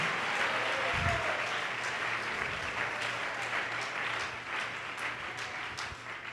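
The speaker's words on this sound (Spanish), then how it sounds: "Un aplauso a Jesucristo" Applause from a church congregation, a sustained wash of many hands clapping together that holds steady throughout and eases slightly toward the end, with no voices over it.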